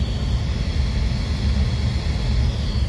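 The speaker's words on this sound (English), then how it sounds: "that sounds like a nice, purdy new motor in there" A newly installed furnace blower motor runs in a crawlspace HVAC system, giving a steady, even low rumble and hum that holds constant throughout with no talk.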